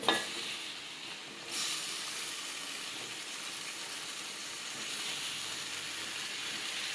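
Tomatoes tipped into a hot pan for matoke masala give a steady, broad sizzle with faint stirring. It starts low, then swells sharply after about a second and a half and holds, with no voices.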